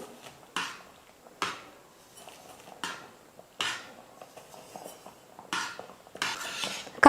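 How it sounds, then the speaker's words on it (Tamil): A ladle stirs roasted semolina for kesari in a metal pan, producing repeated scraping clinks spaced about a second apart, close and moderately loud, with no voices. "கொஞ்சம் கொஞ்சமாக சேர்த்து இப்படி கரண்டி வச்சு கலந்து கொடுங்க."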